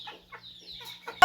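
A native chicken clucks softly in a few short, close calls, followed by one louder squawk at the end, with no voices.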